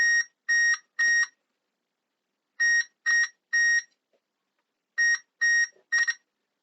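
A continuity tester checking module header pins beeps in three groups of three short, clear, identical tones separated by silent pauses, close and alone.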